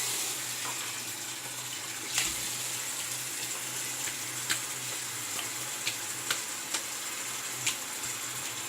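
Running water pours steadily from a faucet as an alum block is rinsed during a wet shave routine, a soft continuous hiss broken by a few sharp clicks and taps.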